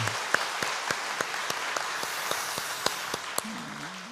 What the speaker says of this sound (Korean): 우리 관악팀들도, 우리 관악기 팀들도 박수 한번 하시죠.